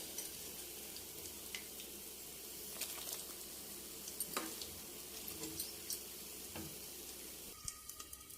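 Bitter gourd pieces and onions fry in a pan with a soft, steady sizzle and occasional spatula scrapes and taps, ending in a brief burst of brighter crackle, no voices.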